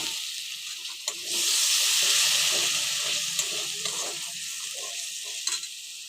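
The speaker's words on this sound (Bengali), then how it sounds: "এবার দিয়ে দেবো সামান্য জল" Water hits a hot pan of egg curry with a sudden loud hissing surge that settles into a steady close sizzle, with a few light utensil taps on the pan and no talking.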